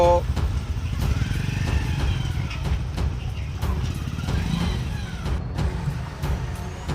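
A motorcycle carrying two riders on the road, its engine a steady low rumble that runs throughout, with people talking over it.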